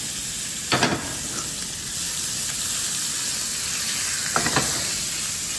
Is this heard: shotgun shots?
no